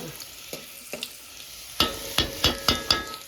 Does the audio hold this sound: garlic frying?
yes